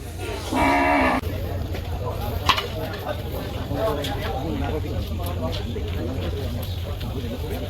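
Cattle lowing amid a busy crowd at a Bangladeshi livestock market during Qurbani season, with a brief loud moo early on over steady murmuring voices and low background rumble.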